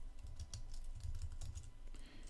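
Quick, uneven keystrokes clatter on a computer keyboard, close and fairly quiet, with no talking over them.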